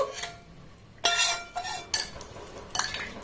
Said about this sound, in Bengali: এবার দেখুন আচারটাকে খুব ভালোভাবে এইভাবে আমি মিক্সড করে নেব